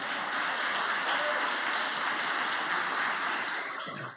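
A church congregation gives continuous, dense clapping as praise to God, a steady wash of applause with no pauses that fades slightly at the end.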